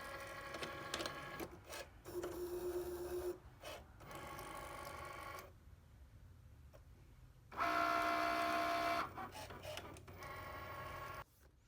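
A cutting machine fitted with a fine point blade slices a piece on a mat, giving bursts of buzzing, whirring carriage movement separated by short pauses and quieter stretches, close and fairly loud.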